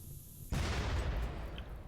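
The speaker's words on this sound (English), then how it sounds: "Love those explosions." Turret explosions and gunfire in the colony-sim game Rimworld, heard as a sudden loud burst that jumps in at half a second and rumbles on in a dense, continuous barrage with deep booms to the end.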